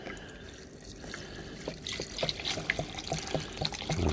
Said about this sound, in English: I'm just going to pour some hydrochloric acid